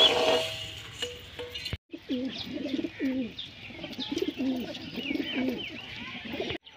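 Pigeons coo in a low, throaty, repeated rhythm close by after being fed grain, with a few faint chirps, all under light background noise in a domestic animal enclosure.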